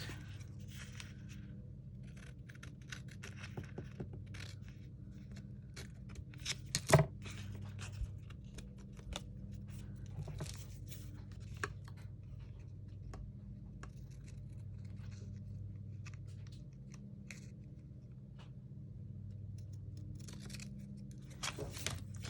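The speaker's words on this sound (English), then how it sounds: "I'll go ahead and cut that." Paper being trimmed with scissors for a handmade mini album, a few faint, quiet snips and small handling rustles scattered over a soft low background.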